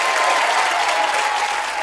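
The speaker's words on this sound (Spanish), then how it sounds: "yo quiero que le den un aplauso tremendo" Studio audience applauding steadily on a Spanish TV music quiz show, dense and loud throughout with no talk over it.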